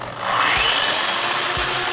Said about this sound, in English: cut the ice in half with my chainsaw